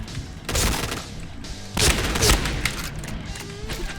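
Zombie-themed shotgun blasting in the Point Blank shooter game, loud heavy shots in bursts, two big booming volleys and scattered smaller bangs, up close with no talk.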